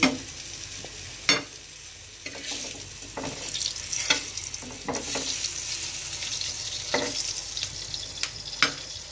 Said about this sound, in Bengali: আমি একটু কড়া করে ভাজতেছি টেস্ট করার জন্য।